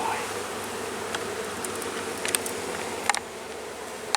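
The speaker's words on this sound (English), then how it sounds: "Lots of bees in this hive." Bees droning steadily from an open beehive during an inspection, a soft, even hum close by with a few faint clicks and taps of handling.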